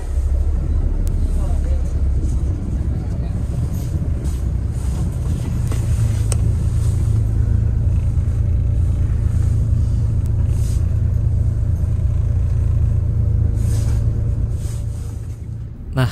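A long-distance bus drives away from the Mengwi terminal in Bali bound for Jakarta, a steady low engine rumble with road and wind noise heard from inside the cabin.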